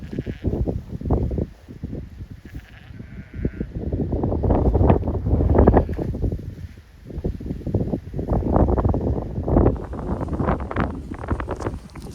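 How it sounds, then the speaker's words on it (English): Strong wind buffeting a microphone over an open spring lambing pasture, loud rumbling gusts that swell and drop, with sheep bleating faintly in the distance. "that wind is getting with it now"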